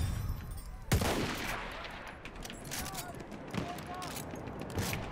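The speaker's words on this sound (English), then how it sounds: "Machine gun!" Machine gun fire in the video game Battlefield 1, a sharp loud burst near the start followed by rattling distant gunfire and battlefield noise, with voices shouting over it.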